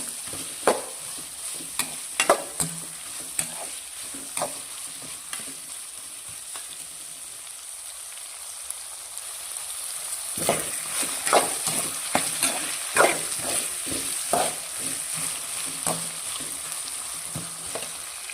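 Avarekalu upma mixture being stirred and fried in a pan, soft steady sizzling with repeated scraping clicks of a spoon against the pan, close and fairly quiet with no talk.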